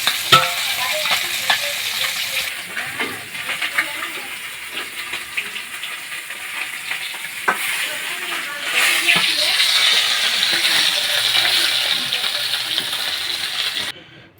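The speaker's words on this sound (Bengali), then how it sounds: "রান্নাটা এখানে মাছ ভাজি করে রাখা হয়েছে" Fish fries in a pan with a loud, continuous sizzle and crackle, swelling in intensity partway through, with occasional clinks of utensils against the pan.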